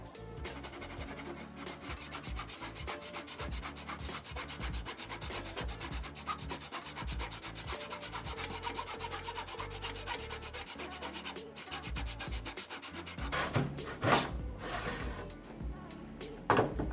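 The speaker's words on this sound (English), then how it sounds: "use a miter box with a miter handsaw to be able to cut the 45-degree angles in the middle" Hand sawing of wood with a miter handsaw in a miter box, cutting 45-degree angles for a free-standing lumber storage rack; steady, continuous rasping back-and-forth strokes, close and fairly loud, with no talking.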